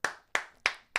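Four sharp hand claps at an even, steady pace, close and crisp, each one fading quickly before the next, with no voices.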